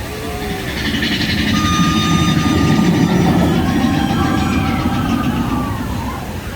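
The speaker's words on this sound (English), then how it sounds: "Oh, the train." A Disneyland train passes at night, a loud, close rolling rumble with squealing wheel tones and metallic screeches that swells and holds steady, with faint voices in the background.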